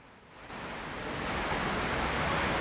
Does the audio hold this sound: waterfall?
yes